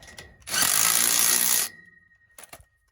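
A power tool whirs in one steady burst of about a second, tightening the nylon lock nut on a U-bolt while mounting a roadside litter sign, followed by a few short clicks and taps close by.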